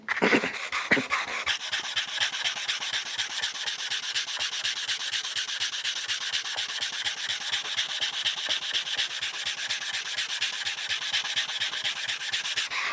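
Sandpaper wrapped around a block is rubbed firmly by hand across a surface in fast, even back-and-forth strokes that form a continuous rasping rhythm, close and steady throughout.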